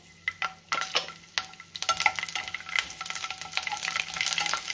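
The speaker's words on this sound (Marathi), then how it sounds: "त्यातच आपल्याला जिरे घालायचे। हे थोडंसं परतून घेऊया।" Cumin seeds, added just after coriander seeds, sizzle and fry in hot oil in a pan while being stirred, with a steady crackling hiss and scattered sharp taps and scrapes of a spoon against the pan, close and alone with no talk.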